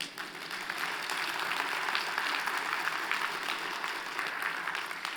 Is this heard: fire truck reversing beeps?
no